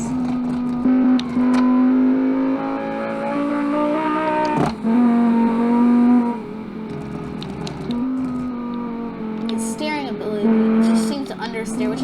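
Rally car engine in a rally video game, a steady droning note that rises and falls with throttle, shifting pitch through gear changes over about twelve seconds, loud and continuous with brief dips.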